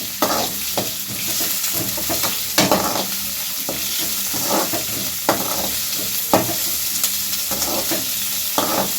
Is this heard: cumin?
yes